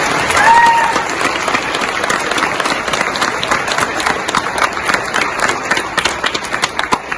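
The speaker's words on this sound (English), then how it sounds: "give these amazing individuals a loud round of applause" Loud applause from an audience honoring World Language Honor Society members, dense clapping that thins out toward the end into more distinct individual claps.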